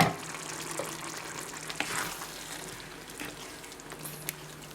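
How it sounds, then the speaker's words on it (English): Roasted mutton curry (rara gosht) stirred in a pan with the flame just turned off, giving a faint, soft sizzle with a few light scrapes and clinks scattered through. "Mix it a bit."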